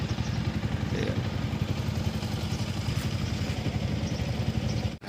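A motorcycle sits idling as it warms up on a mountain road near Joshimath on the way to Badrinath, a steady low rumbling chug that fills the whole stretch, close and constant until it cuts off abruptly at the end.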